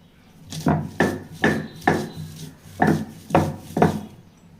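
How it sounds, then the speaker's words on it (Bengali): Garlic is ground on a grinding stone by hand in a home kitchen, producing eight rhythmic, close scraping strokes of stone against stone, evenly spaced, with no talking. "এখন রসুনগুলো বেটে নেব।"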